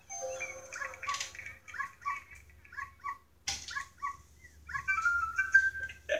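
A cartoonish dog from the Wii Sports Resort video game gives a series of short high yips and whimpers in bursts, with game music and chimes alongside.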